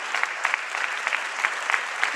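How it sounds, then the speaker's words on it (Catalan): Audience applause at a theatre play, a steady wash of clapping from a crowd with sharper individual claps standing out, continuous and fairly close throughout. "aplaudiment"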